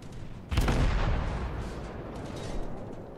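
Naval gunfire from the battleship Yamato in the game World of Warships, a sudden heavy boom of a shell salvo followed by a long rumbling decay, with no talk.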